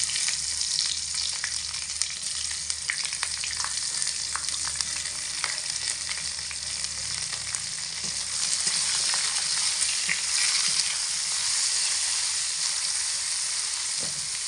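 Cut star fruit frying in a pan after spices were browned in oil for a chutney, a loud, continuous close sizzle with occasional crackles and stirring scrapes, no talking.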